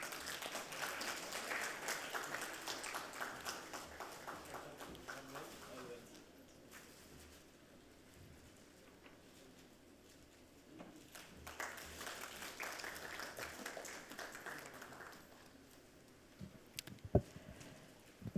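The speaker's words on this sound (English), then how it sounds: "Please give him a big round of applause," Audience applause at a city sustainability forum, a big round of clapping that fills the hall, fades to a quieter stretch, then swells again with scattered claps near the end.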